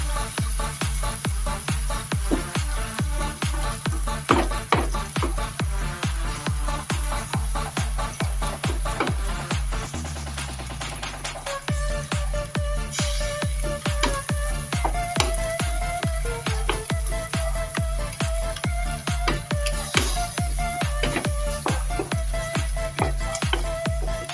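Sardines crushed and sautéed with papaya in a pan, a steady close sizzle with rhythmic scraping and tapping strokes of a spoon throughout, loud and continuous.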